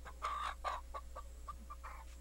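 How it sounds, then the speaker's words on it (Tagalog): Chicken clucking in short bursts, a few louder calls followed by softer, irregular clucks, fairly close and alone over a low steady hum. "Ni ka manok na para sumbaliin."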